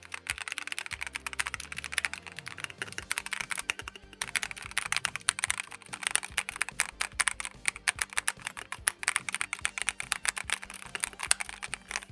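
Rapid typing on an Epomaker mechanical keyboard with Mulan switches, close up, with crisp clacky keystrokes in quick bursts and short pauses.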